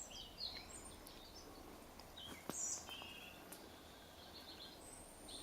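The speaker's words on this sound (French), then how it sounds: "On n'entend que le chant de rouge-gorge, le cri de rouge-gorge actuellement." A European robin sings and calls in a very quiet natural setting, with faint, scattered high chirps and short thin phrases over soft background hush.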